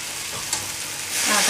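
A loud hiss and sizzle as water hits a hot pan of half-cooked masala corn, steady crackling frying that grows stronger near the end, with no talking.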